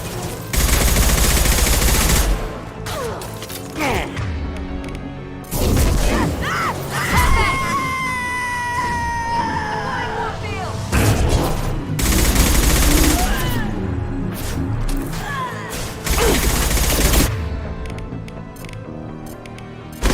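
Heavy gunfire in a video game, with loud bursts of rapid shots in several long volleys separated by short lulls, plus mechanical noises and a high tonal whine partway through.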